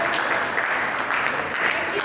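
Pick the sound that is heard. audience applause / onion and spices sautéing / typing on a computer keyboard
audience applause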